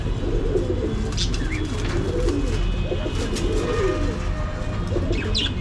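A mated pair of pigeons coo softly and repeatedly over a steady background noise, with a few faint chirps mixed in.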